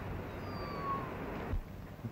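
A cat meows once, a thin drawn-out call heard faintly over a steady hiss of background noise in a 1935 western film.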